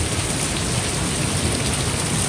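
Steady rain pours down outdoors on a wedding day, a dense, even hiss of drops on surfaces that holds constant and fairly loud throughout, with no voices.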